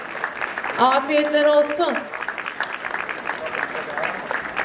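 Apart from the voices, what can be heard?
wedding guests applauding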